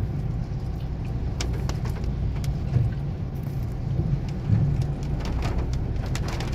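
Heavy rain pours steadily before dawn on the Atimonan Zigzag road in Quezon Province, a dense, continuous hiss with a low rumble of a vehicle underneath and occasional sharper drops.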